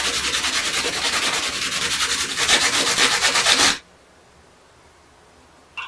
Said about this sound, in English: so don't sand them too much